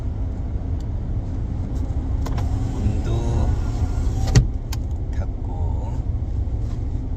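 A car gives off a steady, low engine and road rumble throughout, with a brief click or thump partway through and faint voices in the background.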